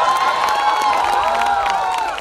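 An audience at a live poetry and mimicry performance breaks into dense, continuous clapping mixed with cheering and shouting voices, loud and close throughout, easing off slightly at the very end.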